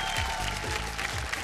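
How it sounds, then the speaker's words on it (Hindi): Studio audience applause on a Hindi TV game show, a dense steady wash of clapping with music or a host's voice faintly underneath. "जोरदार तालियां हमारी चारों मेम साहब के लिए"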